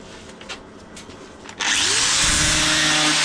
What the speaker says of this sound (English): Just quickly zip the grinder around in this area.